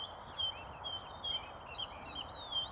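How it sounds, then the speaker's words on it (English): Thin, high birdsong trills and chirps carry faintly in woodland in the Kent Downs, England, over a steady wash of distant car traffic noise, with no voices. "Some lovely bird song"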